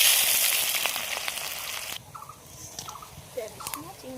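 Dried red chilies, bay leaves and cumin sizzling in hot oil, a loud hiss that fades after a couple of seconds into quieter crackles, with a voice speaking toward the end.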